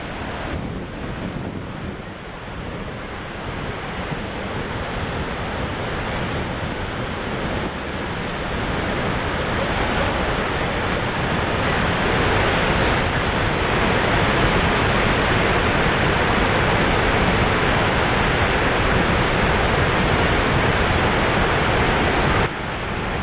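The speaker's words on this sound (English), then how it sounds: "This is one huge falls." Niagara Falls roars in a loud, continuous broadband rush of falling water that swells slightly and holds steady throughout, with no voices.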